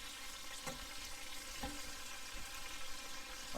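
Chicken pieces coated in marinade simmer and sizzle steadily in a pan, a continuous close crackle with a few sharp clinks of a utensil against the pan.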